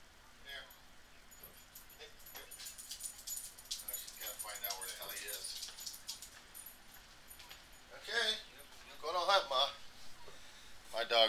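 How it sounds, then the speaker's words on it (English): A pet dog sniffs and moves around a room indoors, with soft snuffling, scrabbling and a few yips and jangles that grow louder toward the end, while a person talks nearby. "Dog's on a hunt."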